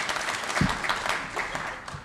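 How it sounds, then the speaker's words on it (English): An audience at a community clubhouse town hall meeting gives a short burst of applause, scattered clapping that fills the brief moment. "You're supposed to applaud at that"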